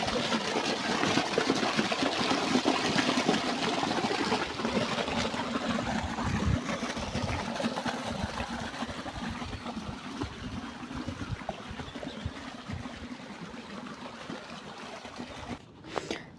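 Water flows steadily through an irrigation channel into a farm field while a pump motor runs, a continuous rushing, gurgling wash with an engine drone beneath, close and even throughout.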